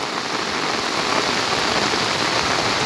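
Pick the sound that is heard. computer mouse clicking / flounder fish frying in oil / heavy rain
heavy rain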